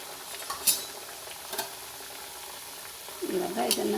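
Rice flour vada drops into hot oil, sizzling and bubbling up near the end after a few sharp clinks of utensils against the pan. Everything sounds close and moderately quiet.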